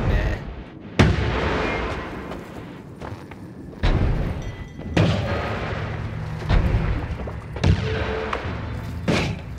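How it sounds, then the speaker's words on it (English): Bomb explosions in the video game Noita land as deep booms and sharp thumps, about half a dozen scattered blasts over a continuous rumbling bed of game noise, moderately loud with no talk over them. "I could just use a bomb and speed this up."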